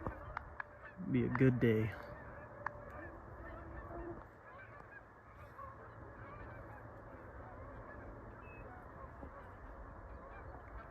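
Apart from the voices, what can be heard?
Canada geese honking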